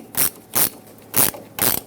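Four quick bursts of ratchet wrench clicking, evenly spaced and close up, as a locking mounting nut on a front shock absorber of a 1995-2004 Toyota Tacoma is tightened.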